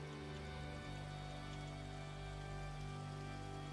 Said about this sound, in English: Not right now, because it's raining.